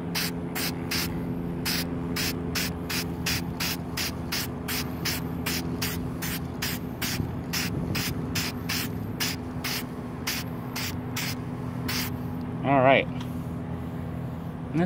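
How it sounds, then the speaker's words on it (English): A shaken spray paint can is applied lightly to a car, giving a steady train of short, evenly spaced hissing bursts close to the microphone over a constant background hum. "So I got it shaken up now, and I'm just gonna spray lightly."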